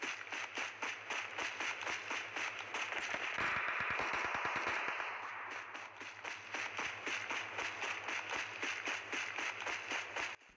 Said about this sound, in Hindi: भैया पीछे से चल रही है फायर